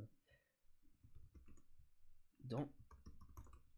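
Typing commands on a computer keyboard: quick, irregular clicks of keys pressed in short bursts, fairly close but quiet, heard under a voice speaking over them.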